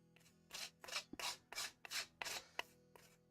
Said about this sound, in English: If I come with the smaller side of the rasp, it should feel less yucky.